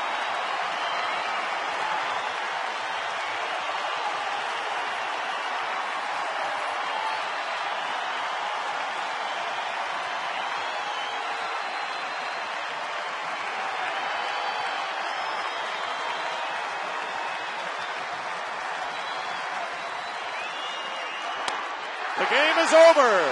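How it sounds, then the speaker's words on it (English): A baseball crowd at the Tigers–Dodgers game in Los Angeles stands and cheers with two strikes on the batter, a steady, dense roar that swells near the end, with a commentator's voice over it. "And now this crowd is on its feet."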